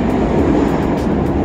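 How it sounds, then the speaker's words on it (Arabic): A Moscow metro train arrives at an underground station with a loud, steady rumble and roar that fills the whole moment, close by and with no voices over it. "هنا المترو كيجي كل دقيقة واحدة بالحساب"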